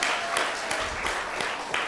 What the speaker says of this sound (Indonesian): Tepuk tangan buat Hemohim.